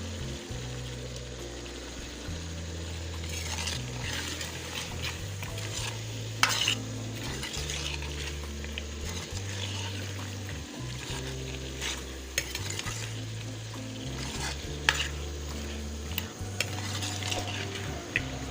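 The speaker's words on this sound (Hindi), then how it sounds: "अब मैं आलू ऐड कर रही हूँ।" Potatoes and peas for aloo matar sabzi frying in a pan, a continuous sizzle under repeated spoon scrapes and clinks against the pan, close and steady without talk.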